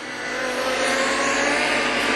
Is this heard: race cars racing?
yes